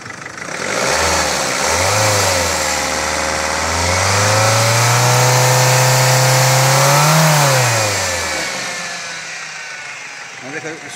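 A car engine runs after a camshaft position sensor repair, revving steadily up and down from a low hum over several seconds before settling back, heard up close with someone speaking over it.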